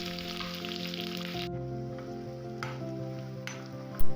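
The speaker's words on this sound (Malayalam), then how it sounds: "അതിലോട്ട് സവാളയും പച്ചമുളകും കറിവേപ്പിലയും ചേർത്ത് വഴറ്റി കൊടുക്കാം." Onion, green chilli and curry leaves sautéing in oil for carrot thoran give a soft, even sizzle under background music, with a sharp stirring knock near the end.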